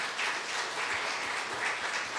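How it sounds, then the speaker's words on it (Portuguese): A church congregation applauds in praise during a worship service, a steady, dense wash of clapping that runs unbroken from start to finish at moderate level, with no voices rising above it. "Vamos aplaudir ao Senhor."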